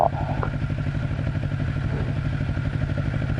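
A Kawasaki Z400 motorcycle engine running steadily at a low, pulsing idle, close and fairly loud, with a rhythmic throb and light mechanical clatter and no clear revving throughout.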